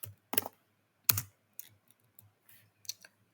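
Keystrokes on a computer keyboard, a handful of separate clicks and short taps in an irregular rhythm, close and fairly quiet, with silence between them.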